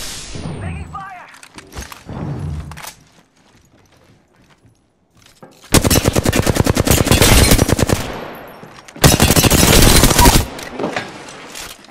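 Apex Legends gunfire in two long, loud automatic bursts of rapid shots, with scattered thumps and single shots between them during duos gameplay.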